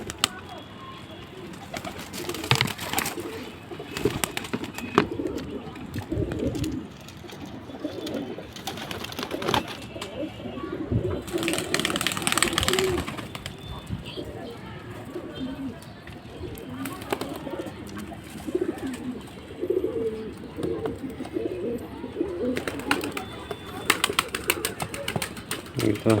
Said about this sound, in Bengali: এই কবুতর খালি মানে এখান থেকে খাইতে চায়